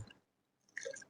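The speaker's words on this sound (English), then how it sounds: "I squeeze the flannel" A wet flannel is squeezed out in a brief, quiet wring, with a soft squelch at the start and a short trickle of water dripping near the end.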